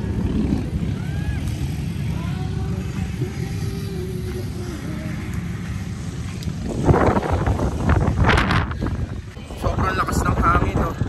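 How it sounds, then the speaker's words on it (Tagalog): Strong wind roars and buffets the microphone in a constant low rumble at a beach campsite in Zambales, Philippines, growing gustier toward the end, with brief voices under it. "Sobrang lakas ng hangin, no?"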